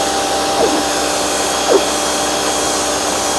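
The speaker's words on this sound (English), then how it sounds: "the pressure washer will take all that dirt right off" A pressure washer with a nozzle gun cleans dirt from a rug at home, giving a loud, constant hissing roar throughout with a couple of faint shifts in tone.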